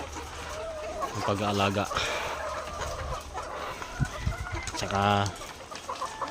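Chickens on a poultry farm cluck in a couple of short bursts under someone speaking Filipino, the birds close and moderately loud between his words.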